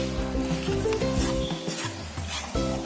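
Margarine is spread across a Teflon pan with steady close rubbing and scraping, over a continuous hum and a soft sizzling texture.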